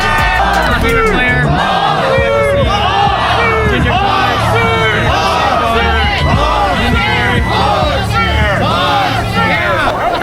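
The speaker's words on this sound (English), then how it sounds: "After about 4 hours of waiting, the crowds have finally really picked up. They're getting rowdier" A dense rowdy crowd of football fans packed together at a big match-day takeover roars, whoops and bellows without a break, loud and close, with overlapping shouted voices throughout.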